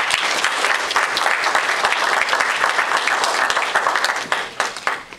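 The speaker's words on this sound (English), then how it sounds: "Let's get a nice round of applause for him." Warm crowd applause at a campaign kick-off rally for Walter Moniz with Barney Frank, dense, close and sustained, thinning into scattered claps in the final second.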